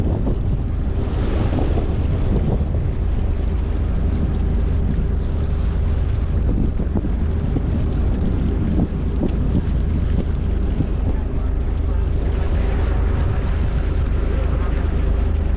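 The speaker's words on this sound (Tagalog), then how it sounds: "ramdam pa rin natin yung hangin sa labas" Steady, blustery wind roars across the microphone in a mangrove area for the whole stretch, a constant low rumble with gusts swelling now and then.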